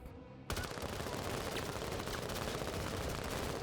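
Soldiers open fire in the video game Menace, sustained rapid gunfire crackling loudly and continuously after a brief quiet start, with no talk.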